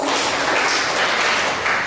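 Audience applause at a Ghanaian community gathering in Tripoli, Libya, a dense, steady wash of clapping filling the short moment without pause.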